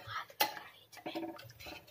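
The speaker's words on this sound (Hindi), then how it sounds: "इसको चम्मच से घुमाते रहेंगे धीरे धीरे" A spoon clinks and scrapes against a cooking pot while slowly stirring yogurt heated for dum aloo curry, with a sharp clink and softer scraping strokes under quiet, close, low talk.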